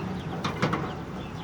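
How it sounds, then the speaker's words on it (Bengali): A domestic pigeon gives a brief, faint coo from a kept bird, heard alone over a soft background hush. "একদম সেরা একটা কবুতর।"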